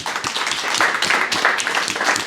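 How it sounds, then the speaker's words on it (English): An audience at a pitch event applauds the participants, loud and close, with individual hand claps standing out within a steady burst of clapping. "a big round of applause, all of you, for actually putting your hat in the ring"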